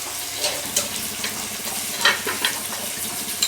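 Beef pieces sizzle and fry in masala for biryani while a spoon stirs the pan, giving steady crackling with several soft scraping strokes, close up and with nobody talking.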